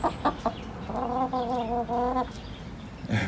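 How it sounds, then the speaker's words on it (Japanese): Hens clucking close up, a run of rhythmic guttural clucks in a short burst, with soft thumps and scuffs before and after. "サンは声が違って面白いですよね、クククククッと、ふーふーふーと、グググッと"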